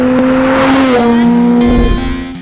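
A loud, high-pitched Porsche GT3 RS Weissach Package sports car engine revs hard and close, its tone climbing and dropping as the throttle shifts.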